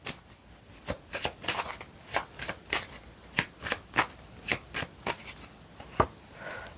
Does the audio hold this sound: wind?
no